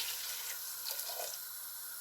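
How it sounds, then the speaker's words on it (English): Coconut milk poured steadily into a pan, giving a soft, continuous splashing hiss at low volume. "So it's time to add the coconut milk."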